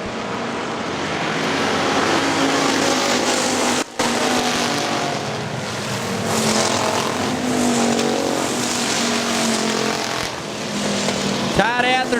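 Factory stock race cars roar around Hartford Speedway Park in a steady, loud pack, engines droning nose to tail, with a commentator's voice running over the track noise throughout.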